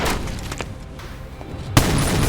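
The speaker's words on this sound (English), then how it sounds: "Shots fired! Shots fired!" Gunshots in a Steven Seagal movie, with a loud opening burst, a few scattered shots through a quieter middle stretch, then a sharp bang at about 1.8 s and sustained loud firing to the end.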